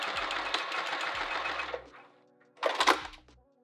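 A sewing machine stitches a 3/4 inch handbag strap in a steady, near burst lasting nearly two seconds, then falls quiet before a second short run of stitching.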